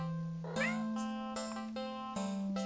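Several plaintive cat meows from the video game Do Not Take This Cat Home, drawn-out and tonal, sounding one after another over a steady background hum.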